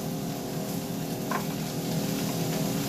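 Garlic sizzles softly in a pan with crispy bacon and Brussels sprouts, a steady low frying hiss with a faint stir partway through.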